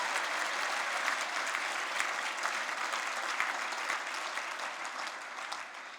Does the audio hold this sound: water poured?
no